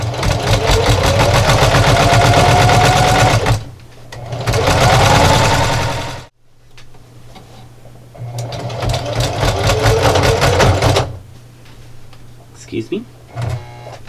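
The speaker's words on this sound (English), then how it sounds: "and then just keep sewing" A sewing machine stitches a fabric pie plate coozie in close, loud bursts of rapid mechanical clatter, stopping and restarting several times, with quieter gaps and a few brief knocks between runs.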